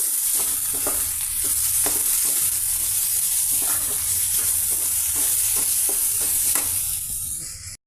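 Food fries in a pan seasoned with chili powder while a spoon stirs it, giving a steady loud sizzle broken by repeated scraping strokes close by, with no talking.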